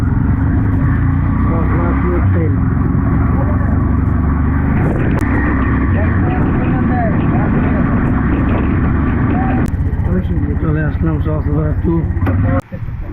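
A CNG auto-rickshaw's engine rumbles loudly and continuously during a ride near Sitakund, Bangladesh, a throbbing low drone with road noise, while passengers talk over it, ending in an abrupt jolt.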